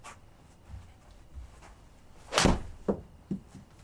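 Golf club striking a ball on a practice fade shot, a single sharp close impact that rises out of soft background noise, followed by a couple of fainter thuds.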